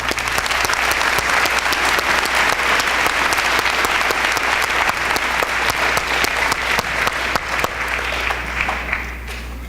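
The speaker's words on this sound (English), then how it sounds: "Let's give them a round of applause again." A large crowd claps continuously and loudly at a military academy graduation ceremony, a dense steady applause with a low hum beneath that holds throughout and eases only slightly at the end.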